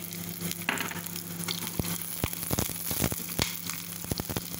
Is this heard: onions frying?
yes